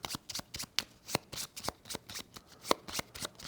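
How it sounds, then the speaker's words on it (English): Cards being shuffled into a deck during a solo game of the Everdell Farshore board game, a rapid run of crisp riffling snaps and soft slides at close range with no talking. "those get shuffled into her deck like that"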